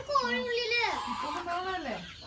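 Chickens cluck and squawk close by in a short, rising-and-falling burst of calls, with a person speaking over them.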